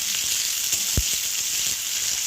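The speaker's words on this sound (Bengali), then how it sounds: "কুচি করে রাখা পেঁয়াজগুলো আমি কড়াতে একটু দিয়ে দিলাম সাদা তেলের ওপর।" Chopped onions fry in white oil in a wok, a steady close sizzle with a few soft stirring clicks.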